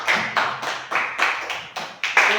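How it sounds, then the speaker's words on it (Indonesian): A classroom of students claps together in applause after a lesson, a series of bright, fairly close bursts of hand claps in uneven rhythm. "Ya, tepuk tangan untuk kita semua"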